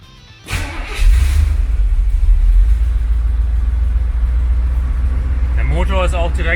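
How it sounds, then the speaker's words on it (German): A 1982 Corvette C3 Collector Edition engine cranks and catches after half a second, swelling into a deep, steady idle rumble up close, with a voice starting to talk near the end. "Der Motor ist auch direkt da, springt sehr gut an, läuft auch schön ruhig."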